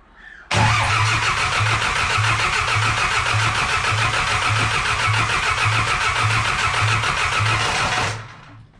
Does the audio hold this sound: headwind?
no